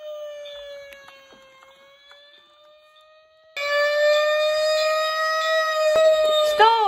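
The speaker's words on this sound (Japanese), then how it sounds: "消防車も出動だ！" A steady fire engine siren tone wails on its way to an emergency, starting faint and then jumping louder and brighter before it bends downward at the end, with a sharp clang near the close.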